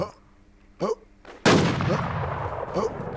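Gunfire in the online shooter Warz, with a sudden loud burst of shots after brief quiet, then sustained rattling fire and echoing noise, with a voice speaking in between.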